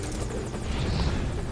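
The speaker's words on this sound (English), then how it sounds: "We'll wait for the helicopter now." A helicopter in the video game Metal Gear Solid V thunders loud and steady with a continuous rotor chop and engine roar, filling the clip on its own.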